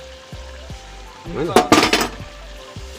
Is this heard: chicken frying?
yes